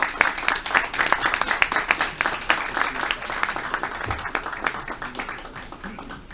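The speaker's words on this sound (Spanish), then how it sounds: "el ingeniero Enrique Cueva, para quien pido fuertes palmas" Strong, steady applause from a conference audience welcoming a speaker at an event on state reform proposals, with close, crisp clapping that holds for several seconds before easing slightly.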